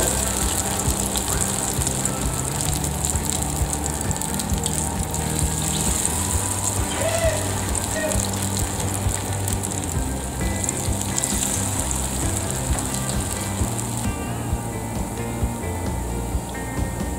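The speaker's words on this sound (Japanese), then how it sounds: "じゃあちくわに衣をつけて入れていきます。" Battered chikuwa deep-frying in oil over medium heat, a steady dense crackling sizzle that holds at even loudness throughout, close and continuous with no talk.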